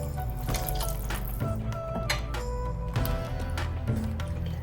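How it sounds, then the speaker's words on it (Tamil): Water runs steadily into a pot of sago pongal, a continuous splashing pour with faint clinks of cookware over a low kitchen hum. "இன்னும் கொஞ்சம் தண்ணி ஊற்றி விடலாம்."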